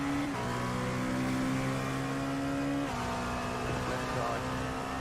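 Two LMP1 prototype race cars in the iRacing simulation of the 24 Hours of Le Mans pass close by, with a loud steady engine drone whose pitch shifts sharply midway, and a voice speaking over it.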